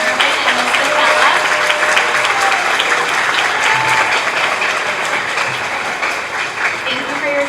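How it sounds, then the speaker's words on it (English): An audience at a school second-grade chorus performance for Flag Day applauds, a steady, dense round of clapping from a full room that holds evenly for several seconds. "Let's give another round of applause for our Stark Music Department, Mr. Leftwich, Mr. Herrmann, and Ms. Ditchel"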